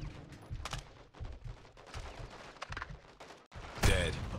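Bursts of gunfire from the Call of Duty MW2 campaign crackle in quick clusters, with a louder close volley near the end.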